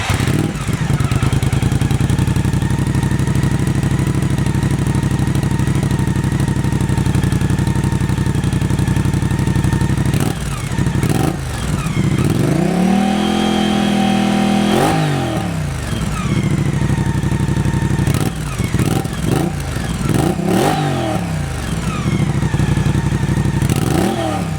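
Moto Guzzi Stelvio fitted with a MIVV slip-on exhaust with the baffle removed, idling loud and close with a deep rumble, then revved in two sharp throttle blips that rise and fall mid-clip before settling back to idle.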